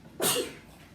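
A single sharp sneeze bursts out close by in a quiet room, loud and brief, then fades into near silence.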